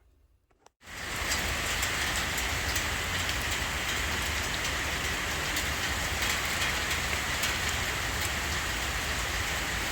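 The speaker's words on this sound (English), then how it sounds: "It's raining pretty hard." Heavy rain starts abruptly and then pours steadily, a loud, dense hiss of drops drumming on a surface close by.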